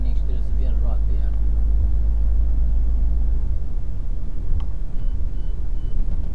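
Car interior with a steady low engine rumble as it circles around a one-way street, the drone continuous and close throughout, with a brief click near the end.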